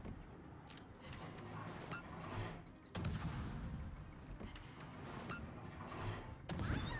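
Incoming shells from a Worcester cruiser in a naval battle video game, heard as a dense run of gunfire and crashing impacts, loud and continuous, with sharp bursts near the three-second and six-and-a-half-second marks.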